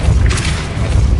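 Depulso spell cast in the video game Hogwarts Legacy, a loud, full burst with a heavy low rumble and a brief bright whoosh near the middle, lasting just over a second.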